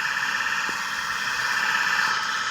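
A farm tractor engine runs steadily near a silage blower and chopper, a constant droning hum with a high squealing whine layered on top, loud and unbroken, with no voices.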